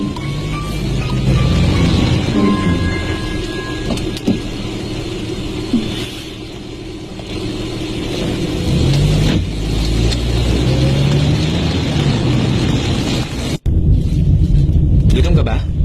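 A car drives through traffic with a steady engine rumble and road noise, rising briefly as it accelerates, while voices talk over it and a sharp thump cuts in near the end.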